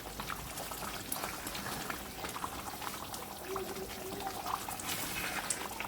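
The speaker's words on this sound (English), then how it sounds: "the tomatoes has been cooking for about 5 minutes" Tomatoes simmer in a cooking pot for a stew, giving a quiet continuous bubbling with small irregular pops and gurgles.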